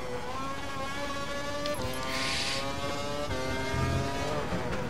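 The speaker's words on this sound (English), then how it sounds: "Go full throttle across the line." A Formula One race car engine screams at full throttle in the F1 2012 racing game at the Austin circuit, a sustained high-pitched whine with rising gear-shift steps and a brief burst of tyre noise midway.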